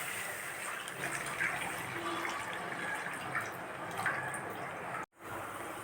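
One litre of milk pours into a pan for rabdi, a soft, steady liquid stream with faint splashing that runs quietly for about five seconds before breaking off.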